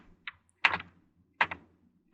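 Typing on a computer keyboard, a few sharp clustered keystrokes close to the microphone with short pauses between bursts.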